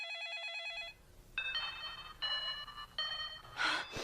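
A telephone rings in the Korean film The Ring Virus, first with a fast warbling trill, then with three repeated electronic rings, each separated by short gaps.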